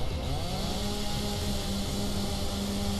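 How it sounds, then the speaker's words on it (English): Chainsaw running in Dead Island Riptide, a loud, buzzing two-stroke whine held steadily for a few seconds with a slight waver in pitch, alone with no voices. "Of course, she's using a fucking chainsaw."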